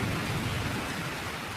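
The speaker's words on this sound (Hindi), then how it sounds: "तभी बारिश और तेज हो जाती है" Steady heavy rain with rolling thunder from a Hindi cartoon storm scene, a dense continuous wash of downpour with low rumbling underneath, loud and close, no voices.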